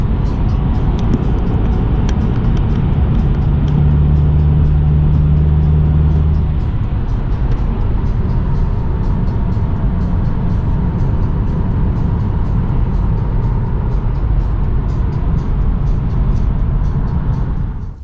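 A car driving on the road at steady speed, heard from inside as a loud, continuous low rumble of engine and road noise, with a brief hum early on.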